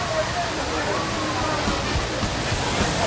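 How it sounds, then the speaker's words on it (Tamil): Water pours down at Thirparappu waterfall in a dense, continuous roar, loud and steady, with voices talking beneath it. "திருப்பரப்பு அருவியில திபுன்னு தண்ணி கொட்டுது."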